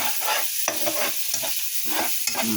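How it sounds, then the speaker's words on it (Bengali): Spice paste for a fish curry stir-fried in a large wok, with a steady close sizzle broken by repeated scraping strokes of a spatula at a loose rhythm. "এখানে হচ্ছে আমি মশলাটা কষিয়ে নিচ্ছি"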